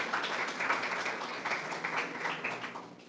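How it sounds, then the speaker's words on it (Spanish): A conference audience applauds a professor at an international psychoanalysis event at a university: a soft, even wash of many hands clapping, moderately distant and sustained for a few seconds without voices. "Un aplauso para el profesor Jorge Luis."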